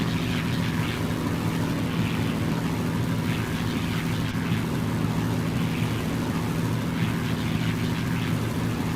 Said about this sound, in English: from your left hand side, it is the Lancaster and the Hurricane